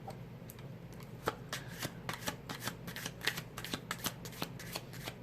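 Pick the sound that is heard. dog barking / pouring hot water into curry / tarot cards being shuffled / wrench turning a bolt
tarot cards being shuffled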